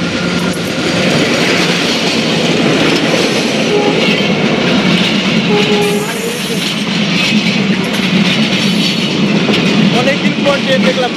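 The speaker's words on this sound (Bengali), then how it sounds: "তো ট্রেন চলে আসতেছে" A train rolls steadily past at close range with continuous loud rumbling and rhythmic clickety-clack of wheels on the rails, while a voice talks faintly in the background.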